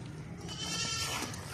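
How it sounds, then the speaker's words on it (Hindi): A Makhi Cheena goat bleats in a short wavering call, heard close over a noisy, hissy background with no talk. "बेहतरीन और ज़बरदस्त बकरा है"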